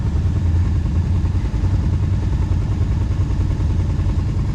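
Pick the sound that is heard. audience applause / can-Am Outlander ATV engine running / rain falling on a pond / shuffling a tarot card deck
can-Am Outlander ATV engine running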